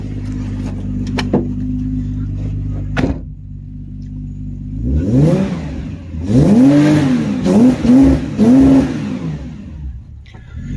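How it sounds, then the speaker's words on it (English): A cold Subaru Impreza with a swapped EZ30R flat-six engine idles, then revs repeatedly in quick bursts, bouncing off the rev limiter with a choppy, stuttering pattern, loud and close. "what you're hearing there is actually engine protection, keeping me from revving it too high when it's this cold"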